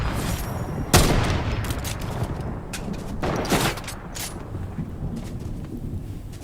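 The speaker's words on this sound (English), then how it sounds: "I decided to reload my heavy sniper and keep shooting." Gunfire from a heavy sniper rifle in Fortnite, with a sharp loud report near the start followed by a few scattered shots over rumbling game ambience.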